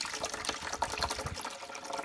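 Keurig descaling solution pours from a container into the water reservoir of a Keurig K-Duo 12 Cup coffee maker, a close, continuous splashing and gurgling of liquid filling plastic, with no talking.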